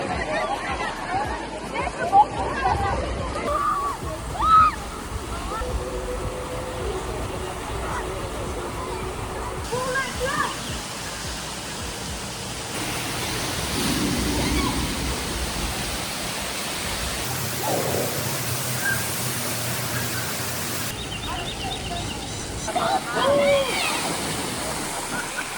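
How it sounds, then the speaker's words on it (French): Water rushes and splashes steadily at a water slide park on a hot summer afternoon, mixed with a constant crowd babble and occasional nearby voices. "on a retourné dans l'eau puis faire des glissades d'eau parce qu'il faisait plus chaud."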